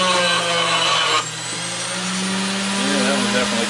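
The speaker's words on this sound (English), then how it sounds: "check this on the grinder real quick" A grinder works on heavy scrap brass with a loud, steady whine and harsh mechanical roar. Partway through, the pitch drops and wavers as the load changes. The sound is close and continuous.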